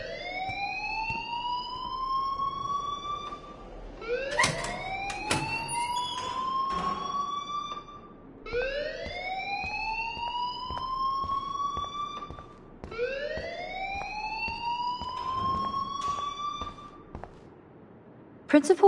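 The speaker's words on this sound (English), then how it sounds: "please turn off that alarm since that's your job" A wailing electronic alarm in the video game Life is Strange, rising in repeated sweeping whoops about every four seconds, loud and steady over a background of game ambience with faint voices underneath.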